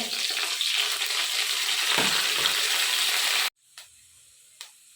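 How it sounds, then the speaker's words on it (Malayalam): Ginger, garlic and curry leaves fry in a pan with a loud, steady hiss and crackle. The sizzle cuts off abruptly, and a couple of faint clinks follow. "ഇഞ്ചി വെളുത്തുള്ളി കറിവേപ്പില ഇട്ട് കൊടുക്കുക ഒന്ന് മൂത്ത് വരട്ടെ"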